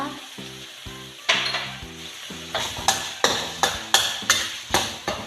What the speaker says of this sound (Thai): จะผัดให้ส่วนผสมเข้ากันก่อนนะคะ